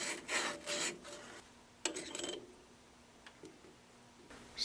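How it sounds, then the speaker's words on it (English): Emery cloth rubbed back and forth over burrs on a metal shaft, a few short close rasping strokes in bursts with quiet pauses between. "I'm just using some emery cloth to get rid of them."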